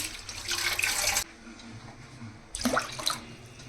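Water poured into a pot holding tamarind pulp and toor dal, heard as two separate bursts of splashing pour, one longer and one shorter with a pause between, close by with no talk.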